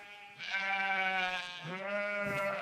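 Sheep bleating in an enclosure, one long wavering harmonic cry followed by a second bleat, close and fairly loud with no other sounds around it.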